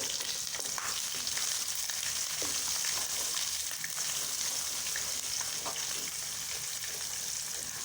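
Carrots fry in a pot of hot oil for vegetable pulao, giving a steady, dense sizzle that stays even and close throughout with no talk.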